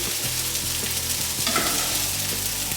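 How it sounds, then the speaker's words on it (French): Eggplant slices fry in a pan with a continuous, moderately loud sizzle and scattered small pops and crackles, heard up close without talk. "Il faut faire cuire environ 15 minutes pour que les aubergines soient très fondantes"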